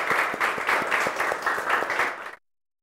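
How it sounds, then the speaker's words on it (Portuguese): A church congregation bursts into brief, fairly loud applause with a few distinct claps, ending abruptly after about two seconds. "Dê para Jesus uma forte salva de palmas"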